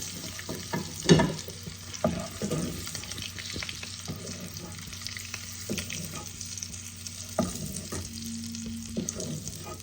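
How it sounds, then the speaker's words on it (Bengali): Eggs frying in oil in a pan for an egg masala gravy give a steady close sizzle, with a few sharp clinks and stirring scrapes, no talk. "ডিম আমার হালকা লাল করে ভাজা হয়ে গেছে"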